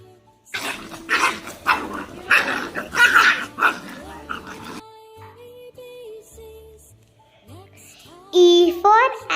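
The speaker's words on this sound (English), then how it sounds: "D for dog" A dog barks and growls in a noisy burst, joined by a voice, then a quieter melodic stretch follows.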